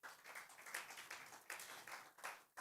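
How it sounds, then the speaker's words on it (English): Brief, thin applause from an audience at a talk event, a few scattered claps in uneven bursts, fairly quiet and fading out. "Please give him a round of applause once again."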